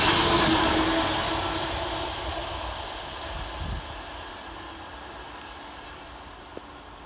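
A Class 390 electric train, unit 390-117, sweeps through a station at speed, a loud rushing roar close by at first that fades steadily as it recedes, leaving faint rail hiss.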